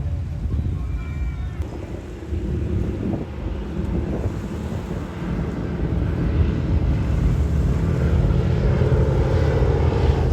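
Propeller aircraft flying overhead at the International Ayr Show air display, a steady low engine drone with heavy wind buffeting on the microphone, sustained and fairly loud throughout with no speech.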